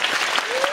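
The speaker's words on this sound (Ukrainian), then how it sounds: "шалені оплески в залі" Frenzied applause fills a concert hall at a Christmas holiday music event, a dense close wash of clapping with a voice briefly heard over it.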